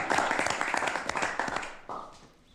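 A burst of clapping and applause from a small group in a French TV comedy scene, fairly close, tapering off after a couple of seconds as a voice briefly cuts in.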